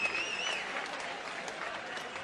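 Crowd applause at a darts match, the World Series of Darts Finals semi-final, a steady wash of clapping and cheering that runs evenly throughout at moderate loudness, with a faint whistle-like tone early on.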